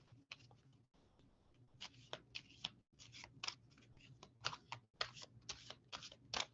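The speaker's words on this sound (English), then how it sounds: "Ooh, a card just fell out." Angel reading cards shuffled and handled close up, crisp irregular flicks, riffles and slaps in quick bursts between short pauses, with no talk.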